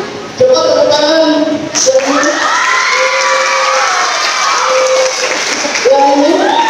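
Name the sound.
children clapping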